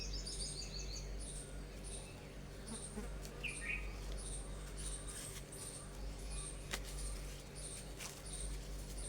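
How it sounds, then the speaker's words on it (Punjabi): A squirrel calls over and over in the morning, a steady run of high, evenly spaced chirps lasting throughout over a low background hum, with no voices. "ਕਾਟੋਆ ਲਗਾਤਾਰ ਬੋਲੀ ਜਾ ਰਹੀ ਹੈ"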